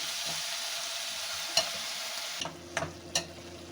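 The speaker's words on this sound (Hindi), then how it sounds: "दो से 4 मिनट तक इसकी हम भुनाई करेंगे।" A basil and mint pickle-style chutney mixture fries in a pan with a steady hiss, and a few scraping strokes of a stirring spoon land near the end; no one talks.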